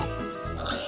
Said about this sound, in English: Some pigs have wandered off from the farm.